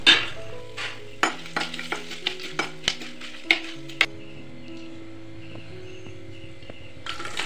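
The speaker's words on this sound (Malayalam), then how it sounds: "ചെറുതായി ഒന്ന് ഇളക്കിയ ശേഷം നമുക്ക് ഇതിലേക്ക് കുറച്ച് ചില്ലി ഫ്ലേക്സ് കൂടി ഇട്ട് കൊടുക്കാം." Green beans stir-frying with Kashmiri chili powder and chili flakes for beans mezhukkupuratti, a steady close sizzle broken by a run of sharp spoon-on-pan scrapes and clicks, with no talking.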